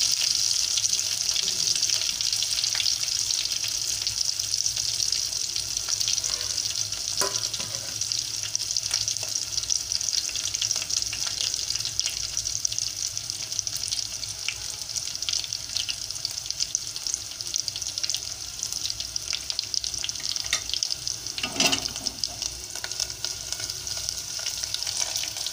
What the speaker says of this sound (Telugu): ఆనియన్స్ కొంచెం వేగాలి.